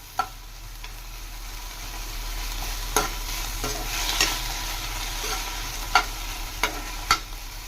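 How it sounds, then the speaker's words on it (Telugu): Tender tamarind leaves frying in a pan on a stove, giving a steady low sizzle with occasional stirring clicks and scrapes of a spatula, fairly close and without speech. "నేను చింత చిగురు కూడా ఆల్మోస్ట్ ఫ్రై అయి వస్తున్నాయి."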